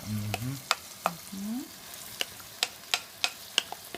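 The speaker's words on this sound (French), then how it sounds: "Tu fais cuire dans de l'huile d'arachide." Sauce ingredients frying in hot peanut oil, a low continuous sizzle punctuated by sharp, evenly spaced taps and scrapes of a spoon against the pot, up close with no talking.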